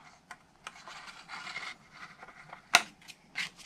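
Scissors snip through cardstock for a chocolate bunny box craft, giving close, crisp cutting and rubbing sounds in short bursts with one sharp louder snip near the end, without talk.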